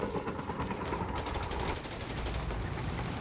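Machine gun fire in the video game Company of Heroes 3 during a 2v2 match, with a short, steady burst of rapid shots set against battle noise, all heard at a moderate distance.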